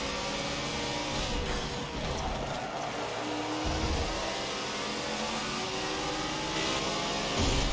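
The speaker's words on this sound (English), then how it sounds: "Yeah, you can hear the turbo." A turbocharged Porsche engine in a racing video game revs and drones loudly and continuously, its pitch rising and falling as the car accelerates, with a whirring turbo tone over the engine.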